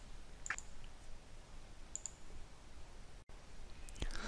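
Computer mouse giving a couple of faint, sharp clicks over quiet room hiss, with one more soft click near the end.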